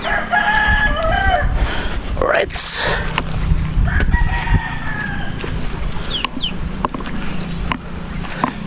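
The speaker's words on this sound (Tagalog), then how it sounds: "ito na ang ating alagang manok" Rhode Island roosters crow and hens cluck in a busy yard, with someone briefly speaking over the birds and steady background noise.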